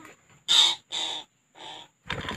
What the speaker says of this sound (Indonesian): burung nuri tanau yang baru dapat